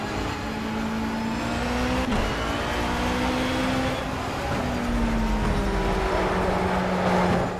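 BMW race car in Project CARS revving hard through repeated upshifts, the engine note climbing and dropping with each gear change, loud and steady, heard from onboard with no talking.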